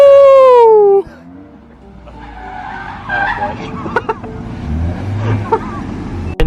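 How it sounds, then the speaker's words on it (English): A Nissan S13 engine revs up and rises in pitch, then cuts off abruptly, followed by rumbling road and tire noise with a few faint knocks, loud and close. "that nice throttle blip"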